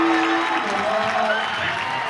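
Crowd at a high school basketball game cheering and applauding, a steady roar of clapping and shouts under a commentator's voice.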